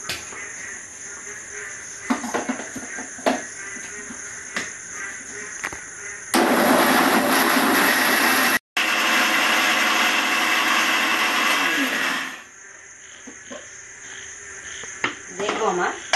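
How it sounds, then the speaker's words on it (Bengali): A kitchen mixer grinder pulverises torn pieces of stale roti into powder, giving a loud, steady whirring roar for about six seconds, broken once by a brief stop, between quieter stretches of background. "আমি রুটিগুলো এইভাবে টুকরো করে নিয়ে মিক্সির মধ্যে দিয়ে নেব, দিয়ে আমি এটা গুঁড়ো করে নেব।"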